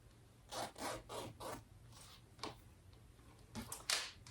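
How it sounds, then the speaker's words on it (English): A zipper is pulled in several quick, scratchy strokes, close and fairly quiet, with brief pauses between the pulls. "let me close my zipper"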